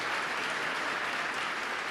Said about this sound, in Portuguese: Vamos aplaudir a Jesus mais bonito